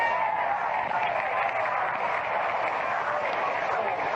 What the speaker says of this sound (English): the first man to bat, a Cincinnati boy, gets a tremendous hand from the crowd